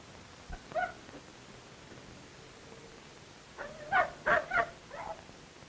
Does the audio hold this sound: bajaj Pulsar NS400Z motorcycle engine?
no